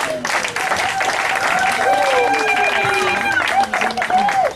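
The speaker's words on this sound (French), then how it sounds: "Vos applaudissements, s'il vous plaît." Loud applause from a crowd at a youth committee investiture ceremony, sustained clapping mixed with chatter, cheers and whistles, voices audible throughout.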